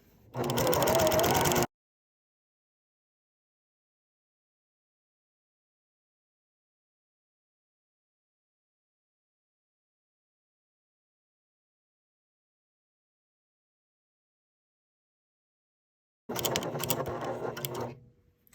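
Sewing machine stitching along the edge of a men's shirt, guided by the presser foot: a short, close mechanical whirring burst at the start, a long silence, then another burst of stitching near the end.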